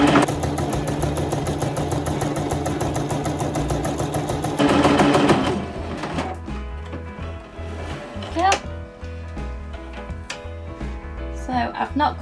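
Toyota Oekaki Renaissance sewing machine stitches embroidery in a fast, steady mechanical whir for about five seconds, then stops and gives way to quieter clicks, knocks and handling sounds while someone talks.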